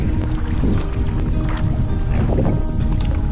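Gusty wind roars steadily across the microphone while kayaking on a lake toward the Peshekee River in Craig Lake State Park, a loud, continuous low rumble with faint water sounds beneath.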